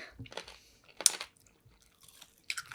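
Someone bites into BBQ-brand yangnyeom chicken, a sweet-spicy sauced Korean fried chicken. The crunches and chewing come close up in a few short, crisp bursts with quiet gaps between them.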